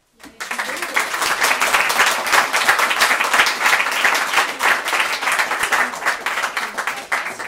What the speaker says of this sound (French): Encore du temps pour applaudir encore.